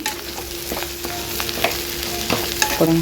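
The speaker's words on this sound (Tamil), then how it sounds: "இந்த பக்கம் வந்து ஃபிஷ் வந்து ஃப்ரை ஆகிட்டுருக்கு" Fish frying in plenty of oil in a pan for a Sunday lunch, a steady close sizzle with occasional crackles and scraping stirs, no talk.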